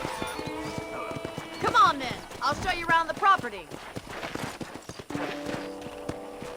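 Horse hooves clip-clop steadily with a whinny in the Red Dead Redemption video game, set against music while a person talks over the sounds.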